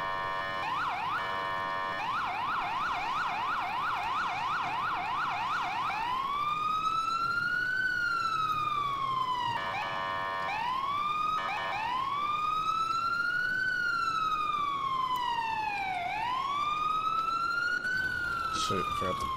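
A wailing emergency siren from an ambulance in EmergeNYC, an FDNY paramedic game, fast yelp cycles giving way to slow rising and falling wails, loud and continuous throughout, with a voice briefly underneath.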